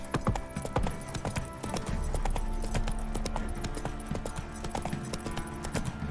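Roach, Geralt's horse in the video game The Witcher 3, gallops with loud, rapid, rhythmic hoofbeats over a continuous bed of game ambience and music, a brief whinny surfacing near the start.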